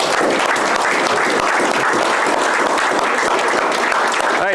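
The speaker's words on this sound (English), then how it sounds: "we should give the Stine descendants who are here a round of applause" An audience at a Fort Collier event in Winchester, Virginia applauds the Stine family descendants with dense, loud, sustained clapping that stays steady from start to finish.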